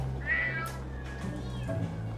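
Cats meow during sedation before a feral cat neutering procedure, with a clear nearby meow early on and lower, fainter cries under a steady background hum.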